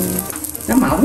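Thin rolled bánh tiêu dough frying in hot oil, a steady bright sizzle and crackle that rises in the second half and is close and fairly loud.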